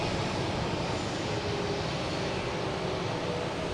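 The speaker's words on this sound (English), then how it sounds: "we have JetBlue heading to LAX, taking off on 4 right" A JetBlue Airbus A321 bound for LAX takes off from runway 4 Right at Boston Logan, giving a steady, broad jet-engine roar that stays even and fairly distant for the whole stretch.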